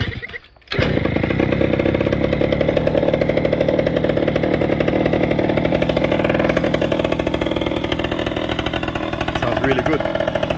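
A small motor on a motorized full-suspension fat bike kicks into life, then settles into a loud, buzzing, steady engine drone close to the listener.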